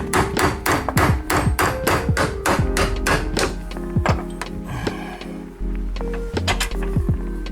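An impact wrench hammers rapidly in bursts while loosening a rear camber arm bolt on a BMW E46 M3. Loud close rattling pulses weaken and pause, then resume in shorter hits, with no speech.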